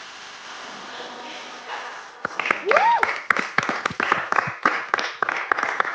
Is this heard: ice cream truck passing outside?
no